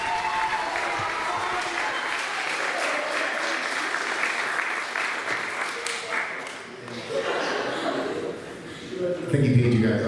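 Crowd applause with cheering fills a school closing ceremony, steady and loud for about ten seconds, with a brief dip near the end before a final swell; a voice speaks faintly under the clapping.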